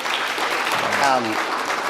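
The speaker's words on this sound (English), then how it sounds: "a round of applause" An audience applauds in a short burst of crowd clapping, with a voice speaking over it partway through.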